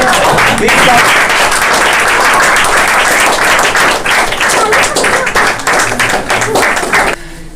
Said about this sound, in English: Please welcome her with a big round of applause. Big clap.